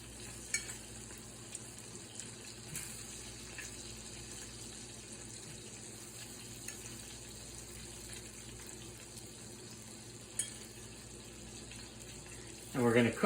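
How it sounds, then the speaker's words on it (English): Steady, soft sizzling of wild carrots frying in a pan, a constant hiss with a few faint clicks and a brief clatter near the end. "And you'll hear them kind of sizzling in there."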